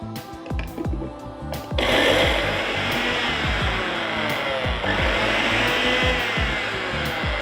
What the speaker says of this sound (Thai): ก็ปั่นก่อนให้มันแหลกนะคะ